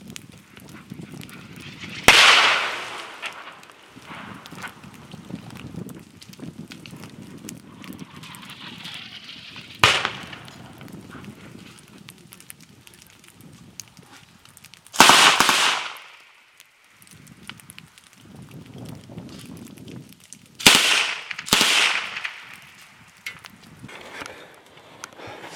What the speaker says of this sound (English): So there's just another huge explosion, and now the soldiers tell us we're under fire from